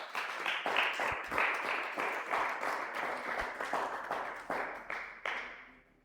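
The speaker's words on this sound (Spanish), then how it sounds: "Dale un fuerte aplauso al Señor." A church congregation applauds together during a Spanish-language service, with dense, steady clapping at moderate distance that thins out and fades toward the end.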